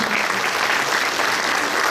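Steady applause from an audience, many hands clapping continuously for about two seconds with no break.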